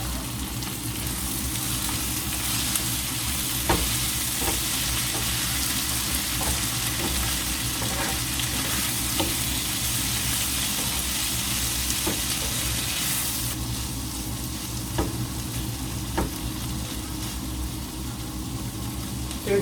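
Onions and tomatoes frying in a pan for an omena (silver cyprinid) dish give a steady, close, dense sizzle, broken by occasional soft clicks from stirring, with no talking.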